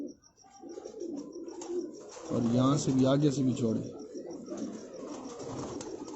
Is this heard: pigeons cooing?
yes